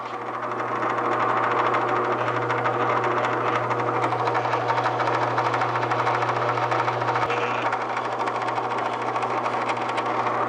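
A 1/4 inch Forstner bit bores holes in wood for pegs on a bowl depth gauge, giving a steady, loud motor whine with a constant low hum and grinding that runs unbroken throughout, no speech.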